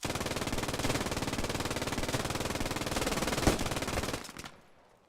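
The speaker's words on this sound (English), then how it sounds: "MGs firing at MGs." MG42 machine guns in the Post Scriptum battlefield game, rapid steady bursts of automatic fire hammering continuously at close range with one sharper crack near the end before the firing cuts off.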